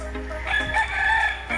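Roosters crow over a busy background of clucking chickens at a gamefowl farm in Tanay, Rizal, several birds calling close by in a short overlapping burst.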